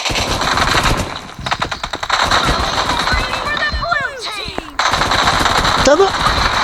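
Rapid automatic gunfire from a picked-up gun in the BGMI mobile battle game, loud repeated bursts with short gaps and a few whistling in-game effects, a voice briefly audible underneath.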